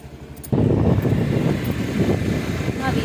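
A motorcycle ride begins abruptly after a quiet moment, bringing a sudden sustained rumble of engine and rushing wind noise that stays loud and steady, with a voice faintly present.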